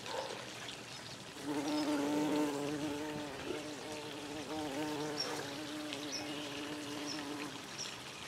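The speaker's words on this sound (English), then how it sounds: "Oh, we already got bees." Bees buzz nearby outdoors, a wavering hum that swells in and drifts as the insects fly around.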